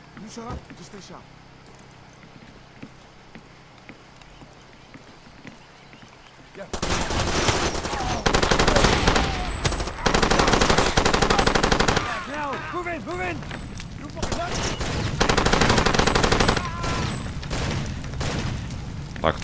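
Gunfire in the Far Cry 2 video game: after a quieter stretch, loud bursts of automatic machine-gun fire and rapid shots erupt and continue in repeated volleys, with someone speaking over the action.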